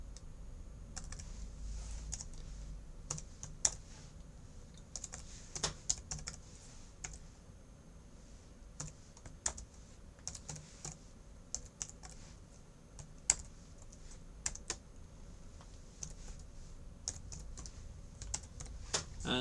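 Numbers typed on a computer keyboard, a steady scatter of quiet, close key clicks with irregular rhythm over a faint background hum.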